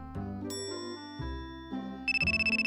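A telephone rings with an incoming call from a payphone, a bright electronic ringtone of shifting tones that ends in a rapid warbling pulse, heard alone.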